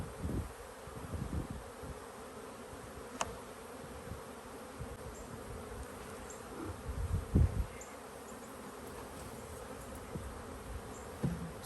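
Honeybees swirling around an open hive during spring swarm management, a soft continuous buzzing drone with a few louder passes and occasional handling knocks nearby.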